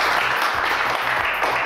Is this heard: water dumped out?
no